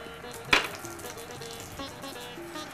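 Panch phoron spices hit hot oil for dry mango pickle and sizzle, opening with a brief loud crackling burst that settles into a steady, moderate frying hiss with no talking.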